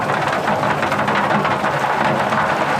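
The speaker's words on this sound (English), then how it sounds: "Kruger's had a fair amount of rain in the last couple of weeks that I've been here" Steady, dense rain with a low rumble of thunder in Kruger National Park, a loud continuous wash of falling water with no voices.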